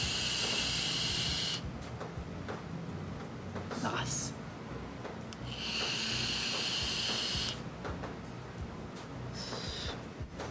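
Long, breathy exhales of thick vapor from a Geyser vape at 55.5 watts with open airflow, three drawn-out hissing puffs close to the mic, with a voice speaking between them.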